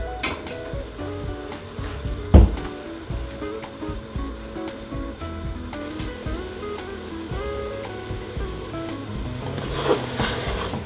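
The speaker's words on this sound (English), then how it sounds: "The water's still boiling, and hopefully it will very soon start to evaporate off" An okra masala mixture bubbles and sizzles in a pan on the stove, a steady moderate crackle with occasional louder pops and stirring clanks.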